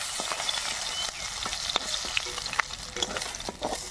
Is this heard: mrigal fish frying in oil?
yes